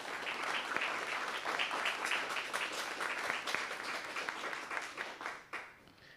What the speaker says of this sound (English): Can you please give Prof a round of applause